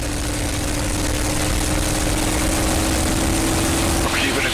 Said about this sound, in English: Alright, going to 2300 RPM.